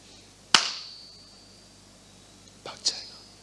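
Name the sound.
hand clapping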